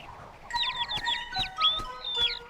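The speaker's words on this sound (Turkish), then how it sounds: "Aa, bir yavru kuş." High, thin chirps from a baby bird in a cartoon come in a quick series of short peeping calls, soft and close against a quiet background.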